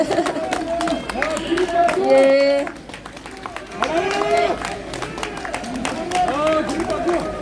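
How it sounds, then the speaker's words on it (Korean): A crowd applauding at an outdoor political rally outside a party headquarters keeps up a dense, sustained clatter of clapping mixed with cheering and chanting, while an amplified voice speaks over it. "계속 우리 들어가실 때까지 계속해서 박수 부탁드립니다"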